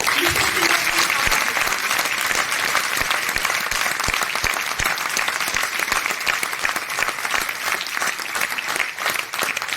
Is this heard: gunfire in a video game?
no